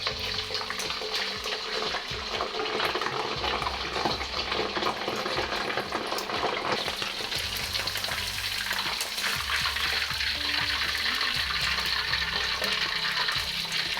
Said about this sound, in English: you just want to fry it until it's about 3/4 of the way done